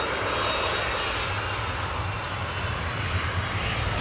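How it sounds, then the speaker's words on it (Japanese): A JAL Boeing 767-300ER arriving from Haneda lands at Itami Airport in stormy weather. Its engines make a loud, continuous broadband roar that holds steady throughout, and there is no talk. "着陸したのは羽田空港からの JAL ボーイング 767-300ER です"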